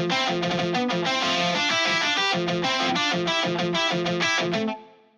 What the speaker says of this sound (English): Go into the guitar, tweak the amp settings a little bit for some variation, and bam, that's a harmony layer.